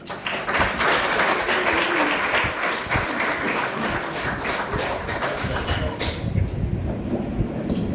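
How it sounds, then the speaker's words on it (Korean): Sustained applause from a large audience at the opening ceremony of a world Korean journalists' conference, dense and steady clapping that fills the room before tapering slightly near the end. "격려의 박수를 부탁드립니다"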